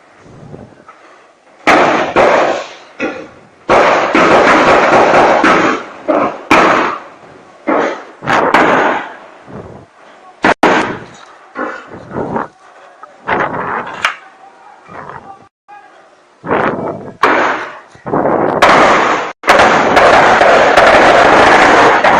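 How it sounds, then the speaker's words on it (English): Live gunfire erupts at the gate of a home during a raid, a rapid series of loud bursts and cracks crowding together over about twenty seconds, broken by brief gaps, with voices mixed in. "They are at his gate, firing weapons, firing guns."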